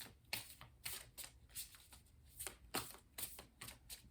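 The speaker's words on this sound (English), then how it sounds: "We're going to do some shuffling and pull 6 tarot cards." Tarot cards are shuffled by hand in quick, soft riffling bursts. The papery flutters come close and fairly quiet, repeating in an uneven rhythm with no voices.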